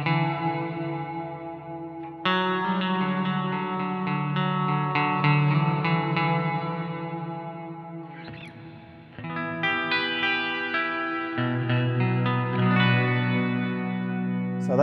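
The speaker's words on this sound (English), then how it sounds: "I'm going to pick mono reverbs and we get some reverb sounds." An electric guitar plays sustained chords through a mono reverb setting on a Line 6 HX Effects pedal, notes blooming and trailing into a wide wash, with a brief pause before strumming resumes.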